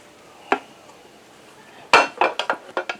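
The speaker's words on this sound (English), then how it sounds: "So we're going to throw that in my crock pot here." Browned lean ground beef with chopped onion is tipped into a crock pot: a single clink of utensil on the pot, a pause, then a quick run of sharp scraping knocks and clatters up close.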